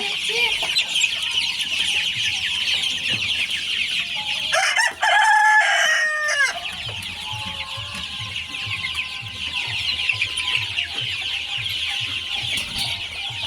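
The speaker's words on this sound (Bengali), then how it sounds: "মুরগিগুলো কিন্তু চলে আসছে পানি খেতে" Hens cluck steadily and close by while a rooster crows loudly partway through, over a constant chorus of birds and background hiss.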